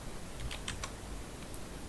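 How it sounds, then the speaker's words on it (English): A few quick, light key taps clustered near the start, then near silence over a low steady background hum. "and I will be typing in my password"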